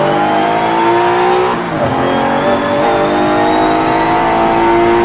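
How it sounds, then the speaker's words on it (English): A single turbo rotary race car revving hard and burning its rear tires, a loud, steady, high-pitched engine drone with a brief dip in pitch partway through before climbing again, close by. "My single turbo rotary. Burn those rear tires."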